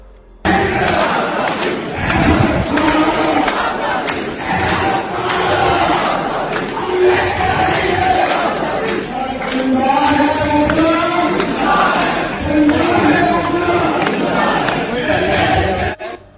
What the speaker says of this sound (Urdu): یہ ذرا نعرے سنیے گا